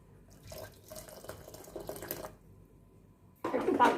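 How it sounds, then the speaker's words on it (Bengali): Hot water poured into cooked urad dal in a kitchen pot, a splashing liquid pour heard in two bursts, the second louder and closer near the end. "এর মধ্যে একটু গরম জল মিশিয়ে দিই।"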